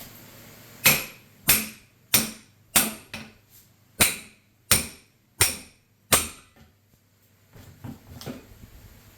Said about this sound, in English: With the hammer, you can swing and knock out usually 1-2 hits and it's done.